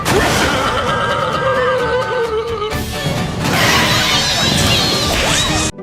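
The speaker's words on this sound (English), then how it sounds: "suddenly the horse stops and snorts" An animated horse whinnies loudly in a shrill neigh, then a burst of whooshing, crashing action with a snort-like rush of air near the end.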